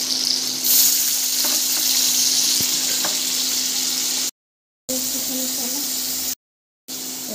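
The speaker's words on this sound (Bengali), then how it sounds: "এবার পনিরটাকে আমি একটু হালকা করে ভেজে নেব।" Paneer fries lightly in hot oil in a wok, a close continuous sizzle and hiss with faint stirring clicks, cut by two brief silent gaps.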